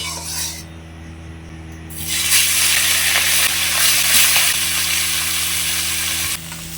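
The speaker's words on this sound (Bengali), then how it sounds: "এবার আমি মাছগুলো ভেজে নেব।" Fish hit hot mustard oil in a kadai over a clay stove, bursting into a loud, steady sizzle that holds for several seconds before easing off, preceded by a quieter hiss.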